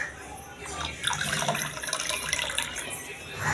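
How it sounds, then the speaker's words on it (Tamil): Homemade lemon juice is poured into a glass of juice, a close, continuous splashing trickle lasting a few seconds with slight swells in loudness. "அதுக்கப்புறம் இது வந்து எங்கள் வீட்டிலே போட்ட லெமன் ஜூஸ். இதையும் நம்ம வந்து இந்த ஜூஸுக்குள்ளே ஊற்றிடுவோம்."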